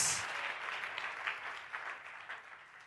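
A church congregation applauds during a Sunday sermon, steady clapping that swells briefly at the start and then continues more softly throughout, with no speech over it.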